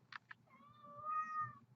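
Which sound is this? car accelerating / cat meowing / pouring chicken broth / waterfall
cat meowing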